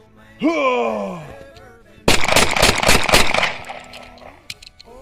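Rapid burst of Walther PPK pistol gunshots fired at close range outdoors, a dense loud volley lasting over a second, preceded by a rising vocal whoop and followed by trailing echoes.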